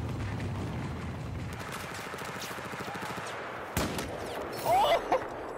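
Sniper rifle gunfire from a quick-scope headshot in Battlefield 4, with a sharp shot near the middle and another burst toward the end over busy in-game combat noise.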